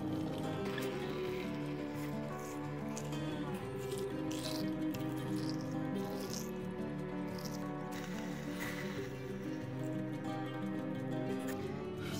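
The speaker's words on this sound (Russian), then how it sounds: "Заливаю кипятком." Boiling water is poured in small amounts into glass jars of berries, a faint, continuous trickle and splash over a low steady hum, with occasional drips and clinks.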